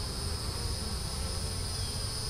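Honey bees buzz steadily at an open hive frame holding capped brood, a continuous close, even drone with no voices.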